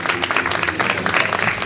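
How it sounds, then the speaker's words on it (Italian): A live audience applauds for a contestant being awarded her sash at a Miss Italia regional beauty pageant at a hotel in Jesolo, giving steady, dense clapping throughout with no voices over it. "facciamo un bel applauso"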